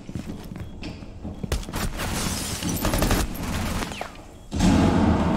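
Gunfire in the tactical shooter game Rainbow Six Siege comes as rapid bursts of automatic shots and impacts, fairly loud and dense, without talking in between.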